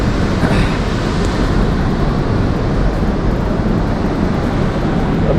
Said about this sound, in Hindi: तो भाई साहब पहुँच गए अपने सेंट्रल स्टेशन